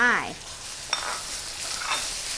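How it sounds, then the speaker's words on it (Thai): Minced pork fries with dried chili and garlic in a hot pan for a Thai basil stir-fry, giving a bright hiss. A brief voice opens it, and a single sharp utensil clack lands midway. "ผัดพริกกระเทียมค่ะ ให้เหลืองหอมเลยค่ะแล้วก็เอาหมูใส่ลงไป"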